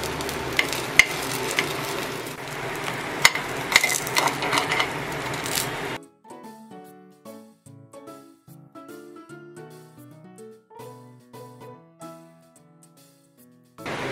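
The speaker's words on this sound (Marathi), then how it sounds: "आता आपण आप्पे परतून घेऊया" Lentil-rice appe dumplings crackle and sizzle in an appe pan while being turned, a busy frying hiss with light taps for about six seconds before it gives way to quiet background music.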